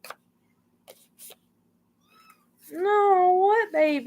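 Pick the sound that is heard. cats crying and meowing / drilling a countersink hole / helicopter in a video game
cats crying and meowing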